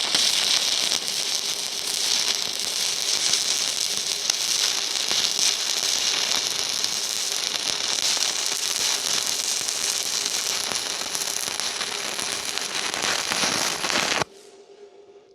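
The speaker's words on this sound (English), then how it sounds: "it's stick welding pretty good" A BestARC MIG145 welder running a stick weld at about 125 amps, its arc giving a steady, dense crackling sizzle close by for about fourteen seconds before cutting off abruptly.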